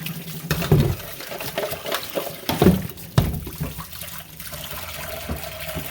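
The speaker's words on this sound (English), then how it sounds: "So just gonna wash everything up right now." Equipment being washed up under running water after lambing, with a steady wash of flowing water, clatter and clunks from handled gear, and a few louder knocks near the middle.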